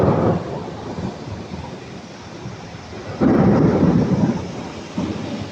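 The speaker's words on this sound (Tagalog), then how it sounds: "God, it's raining." Heavy rain pours with rumbling thunder, a dense steady wash broken by a loud roll of thunder midway and another swell near the end, close and without talk.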